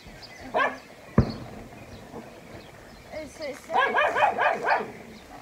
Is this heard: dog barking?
yes